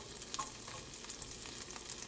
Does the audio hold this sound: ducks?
no